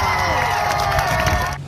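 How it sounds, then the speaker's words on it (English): A crowd of demonstrators cheers and whoops loudly, a dense burst of shouting voices that holds steady before cutting off abruptly. "You could hear the cheers erupting in the crowd."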